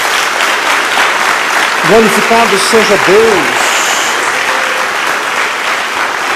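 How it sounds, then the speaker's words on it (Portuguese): A church congregation gives a round of applause, a steady wash of clapping under which a voice speaks briefly. "Dê uma salva de palmas a Jesus."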